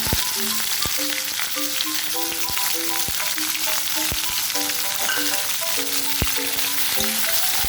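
Chopped onion fries in hot oil after bay leaf and nigella seeds go in. A loud, constant sizzle crackles close by with no voices, and tonal clinks and scrapes from stirring run underneath.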